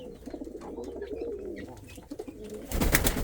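Indian fantail pigeons and other pigeons in a pigeon house giving soft, low, rolling coos, close and steady, followed by a burst of rustling or flapping near the end.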